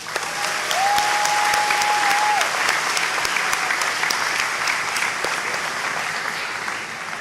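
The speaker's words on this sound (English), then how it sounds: "Please join me in a well-deserved round of applause for Mr. Ernest." An audience applauds steadily throughout, a dense wash of clapping that stays loud and even before easing slightly near the end.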